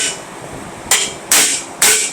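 A dead blow hammer taps a car part three times from the back, dull close thuds spaced about half a second apart, over quiet shop background.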